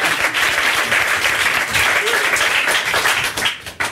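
A French TV studio audience breaks into dense, loud applause that holds steady for several seconds before thinning briefly at the very end.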